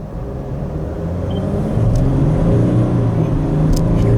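A Mercedes Sprinter van with a throttle modification accelerates hard, its engine rumble swelling and growing louder as it pulls from inside the cabin, with a steady low drone throughout.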